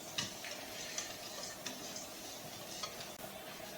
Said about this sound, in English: We're just going to give that a nice whisk.